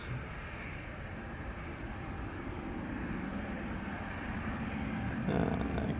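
An EasyJet airliner passes at Manchester Airport as a faint, distant, steady jet rumble that builds slowly, with a louder swell at the very end.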